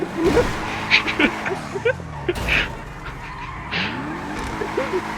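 In a GTA roleplay game, a car takes a hit and its tires skid, with squealing swoops and thumps of impact recurring over a rumbling engine, while voices and a honk-like sound cut in.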